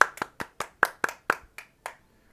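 About nine hand claps in a steady, slightly slowing rhythm, close and crisp, fading off at the end with no talking.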